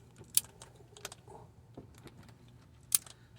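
A torque wrench tightens a timing belt pulley on a VW Jetta TDI in a parking lot, giving a few sharp, isolated metallic clicks with quiet ratcheting ticks between them, close and fairly faint.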